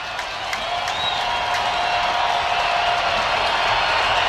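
Stadium crowd at an NFL game between the Los Angeles Chargers and Denver Broncos, a broad, continuous roar of many voices heard from a distance, steady and fairly loud with faint scattered claps and whistles.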